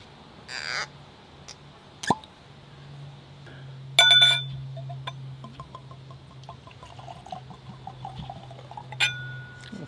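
Whiskey is poured energetically into a glass after the bottle is opened, with sharp glass clinks and a gurgling, splashing stream of liquid at close range.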